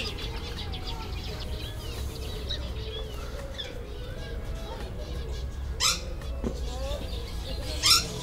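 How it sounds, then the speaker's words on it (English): Birds in an outdoor aviary in Loughborough give occasional short, sharp chirps over a steady background hum, with two brighter calls standing out near the end. "And there are all the birds you can find in here."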